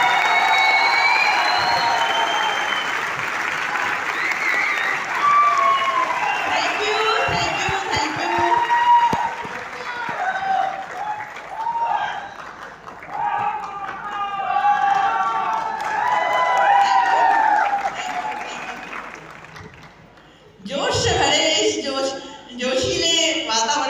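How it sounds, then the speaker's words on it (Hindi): Loud applause and cheering fill an auditorium at a motivational speech event, sustained clapping mixed with crowd noise, with a spoken voice carrying over it and a fresh burst of clapping near the end. "वर्षा मैडम को जोरदार तालियों के साथ में मैं अनुरोध करता हूं, जोरदार तालियां"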